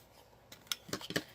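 Scissors snip through ribbon pieces for a bow in about four quick, close, crisp cuts in a quiet room.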